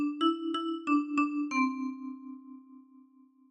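A 10-key kalimba picks out a phrase of "Oh Susanna": five quick bright plucked notes in a row, then a final note left to ring and fade slowly, close and quiet with no voice.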